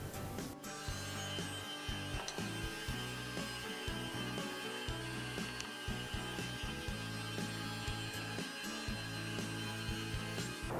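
Saw making rip cuts through wood boards for a cutting board. A steady mechanical whine sits under rhythmic, rasping cutting passes, with a sharp onset at the start.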